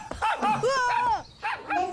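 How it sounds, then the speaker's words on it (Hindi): A cartoon dog barks and yelps in a rapid run of high, whining, tonal cries, loud and close, with short gaps between bursts. "कुत्ता तो मेरे पीछे लग गया।"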